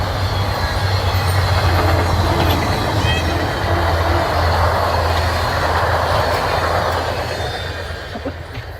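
A train rumbles past close by, with a steady low engine drone and continuous rolling rail noise that fades slightly at the end.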